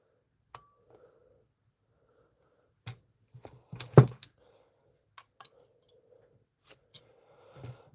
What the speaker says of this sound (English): So I use my pliers instead.